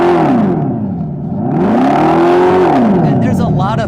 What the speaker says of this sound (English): They put a fake speaker exhaust system on a car